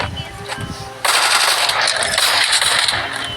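Rapid P90 submachine gun fire in a squad battle game erupts after a second of lighter sounds, a dense loud continuous burst running to the end with some voice mixed in.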